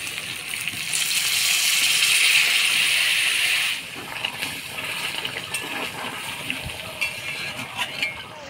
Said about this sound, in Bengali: এবার অল্প গরম জল দিয়ে দেবো